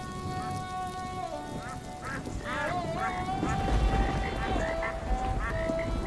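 A sick goose in a cartoon makes a series of nasal honking, quacking calls, close and clear, while people talk over it amid a steady rain-like background.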